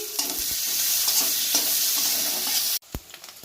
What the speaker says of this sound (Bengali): পেঁয়াজটাকে ভালো করে ভেজে নেব আমি